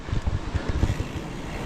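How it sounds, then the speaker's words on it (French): Strong wind gust with drizzle buffeting the microphone on an outdoor walk near Saint-Malon-sur-Mel, loud rumbling blasts rising and falling, then easing, no speech. "énorme rafale de vent avec de la bruine"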